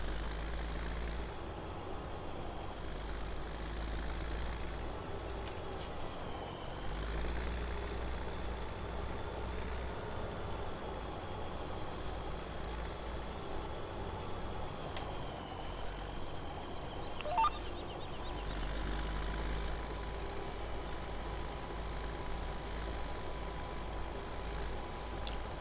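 A Ford tractor in Farming Simulator 17 drives across a field with a faint, steady low engine drone that runs throughout with little change.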